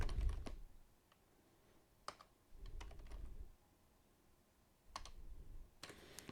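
Keys clatter on a computer keyboard while VB.NET code is typed for an AutoCAD plugin, coming in short bursts of quiet clicking separated by brief pauses, close and fairly soft with no talking.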